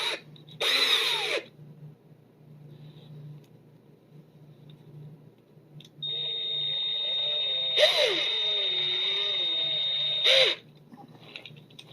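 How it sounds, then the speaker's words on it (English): A power drill spinning a half cotton swab whirs briefly, then runs in a longer, steady high-pitched whine for several seconds with a couple of louder surges, up close and without talk. "I'm going to take a Q-tip, cut it in half, chuck it up in a drill"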